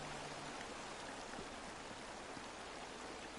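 Steady rushing waterfall in The Elder Scrolls Online, a continuous broadband splash of falling water beside a tree, loud and unbroken throughout with no talk over it.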